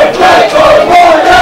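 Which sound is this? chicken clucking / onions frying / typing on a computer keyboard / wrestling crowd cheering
wrestling crowd cheering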